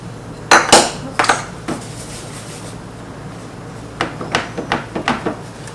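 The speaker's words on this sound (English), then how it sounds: "Just gonna put a little oil on the pan." Oil goes onto a pan for communion bread, with a few close metallic clinks and knocks as the pan and bottle are handled, then quieter scattered taps, no talking.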